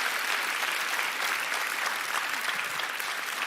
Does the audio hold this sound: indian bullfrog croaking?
no